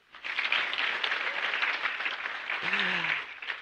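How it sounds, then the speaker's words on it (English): A conference audience at an agricultural scientific expo claps for a cabinet secretary, a steady dense round of applause rising quickly and holding, with a brief voice murmuring underneath. "Can we clap for the CS?"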